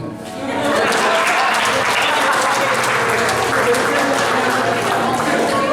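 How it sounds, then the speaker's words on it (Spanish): A burst of applause from a crowd at a school literature evening, sustained clapping that swells quickly and continues steadily, with a few scattered voices mixed in. "Aplausos."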